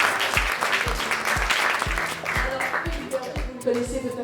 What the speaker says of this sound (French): Une autre star que je vous demande d'applaudir,